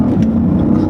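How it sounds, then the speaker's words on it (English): Jeep Grand Cherokee SRT8 engine pulling under throttle, a loud, close low drone heard from inside the cabin for under a second. "Let's get this gas pedal going"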